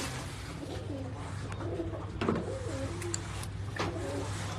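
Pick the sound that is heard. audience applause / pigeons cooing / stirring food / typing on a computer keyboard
pigeons cooing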